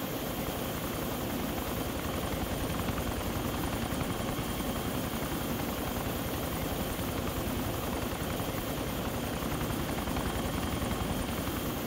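A helicopter spinning as it comes in to land makes a steady, loud rotor and engine drone with a rapid, even chop throughout, constant and without talk.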